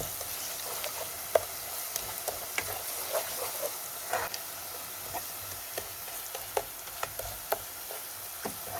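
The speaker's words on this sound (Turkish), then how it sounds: "Böyle karıştıralım." A spoon stirs a lentil and noodle mixture with a little tomato paste in a pan, giving soft scrapes and light ticking taps over a steady gentle sizzle, close and unhurried, with no voices.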